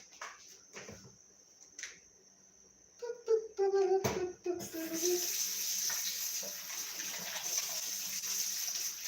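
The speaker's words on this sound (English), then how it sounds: "First, we're going to wash our hands." A kitchen tap is turned on, then hands are washed under the running water. Handling clatter and a brief voice come first, followed by a steady splashing stream.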